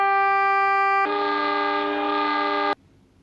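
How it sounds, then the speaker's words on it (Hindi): A metro train sounds a loud sustained horn chord that shifts to a brighter tone partway through, holding nearly three seconds before stopping abruptly and leaving faint background hum. "मेट्रो ट्रेन को हिंदी में कहते हैं मेट्रो गाड़ी और संस्कृत में कहते हैं मेट्रो रेल यानम."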